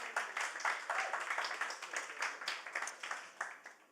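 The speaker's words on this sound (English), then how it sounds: "Round of applause for them, please" An audience claps and applauds at a storytelling event, a moderately faint patter of many hands that swells and fades over a few seconds.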